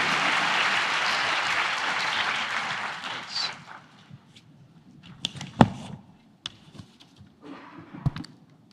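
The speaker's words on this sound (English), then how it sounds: "I'd like to ask you to join me as we give a round of applause for Dr. Chanda." Audience applause for a presenter at a health research forum, a dense burst of clapping that fades after about three seconds into scattered claps and small room noises.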